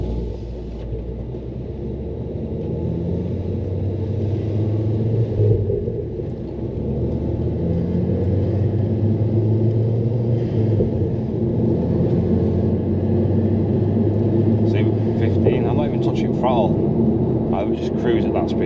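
A 300bhp-plus Ford Focus ST cruises at light throttle, its engine a steady, loud low drone and rumble inside the cabin, with a voice talking over it and some brief rattly clicks near the end.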